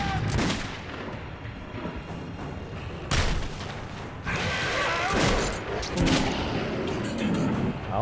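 Gunfire in Metro 2033 Redux, repeated loud shots and bursts across several seconds amid chaotic combat noise, with shouting voices mixed in.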